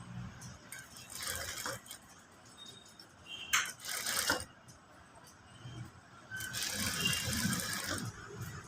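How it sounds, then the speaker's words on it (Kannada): A sewing machine runs a straight stitch on a blouse, with a close mechanical whirring and clatter in several runs. The longest steady run comes near the end, alongside light handling rattles. "ಇವಾಗ ಸ್ಟ್ರೈಟ್ ಒಂದು ಸ್ಟಿಚ್ ಹಾಕೋಣ"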